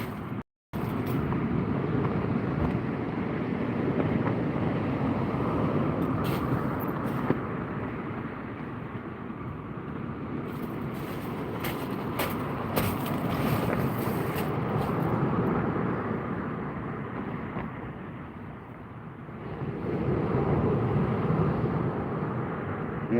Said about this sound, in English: This wind gust, isn't it? So gusty, man.